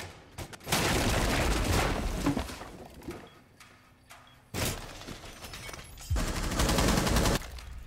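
Bursts of hipfired video game gunfire in two dense stretches, near and loud, with a quieter gap of scattered shots and rattling between them, no talking.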